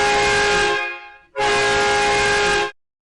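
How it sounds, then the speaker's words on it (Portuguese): A loud, sustained truck horn blares twice, a long blast that fades briefly before a second equally strong blast cuts off abruptly, played as a theatre sound effect. "a sonoplastia vai desde sons simples como a buzina de um caminhão"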